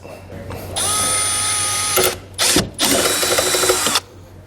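A power drill whines in two bursts, about a second apart, close and loud, biting through a plastic grommet with a brief gap between runs, during tail light converter installation on a 2018 BMW X5.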